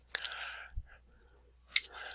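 Quick mouse clicks at a computer running SolidWorks 2019 setup, a sharp near click early and another pair of crisp clicks later, with faint breathy background between.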